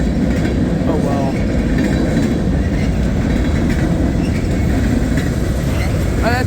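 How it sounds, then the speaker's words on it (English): A CSX train rolls past at Point of Rocks, a loud, continuous rumble of railcars with faint clickety-clack and occasional squeals, close by and steady the whole time, with speech mixed in. "Underwhelming train, but who cares? It's a train."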